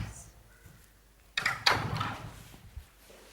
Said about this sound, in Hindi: दरवाजा बंद कर देना प्लीज।